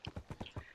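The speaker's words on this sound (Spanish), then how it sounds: "Mira, un caballo." Hooves of a horse in Minecraft clip-clopping in a quick, even rhythm, five crisp hollow knocks close by and clear against a quiet background.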